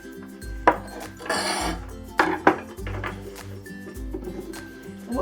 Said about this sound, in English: we'll cut the garlic stems.